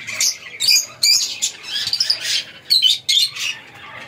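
A caged breeding pair of budgerigars, the female sitting on eggs inside the nest box and the male perched outside, gives off bright, rapid chirps and squawky tweets in close, irregular bursts throughout.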